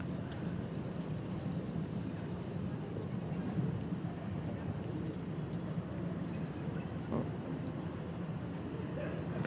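A big horse in a four-in-hand driving dressage competition trots with faint, steady clip-clopping hooves at a distance, under an arena commentator's voice.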